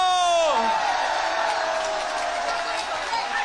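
A large crowd of students at a protest rally roars with cheers and clapping; a rising shout opens it, then a loud, sustained mass of voices and applause continues throughout.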